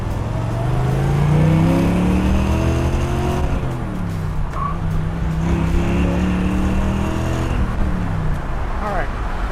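A 1962 red convertible's engine revs hard through the gears while driving, its pitch climbing and dropping in repeated sweeps as it shifts, loud and close throughout with a short lull near the middle.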